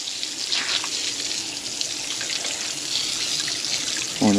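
Steady rush of water running from a tap at an outdoor dog wash, a constant close hiss with no talking.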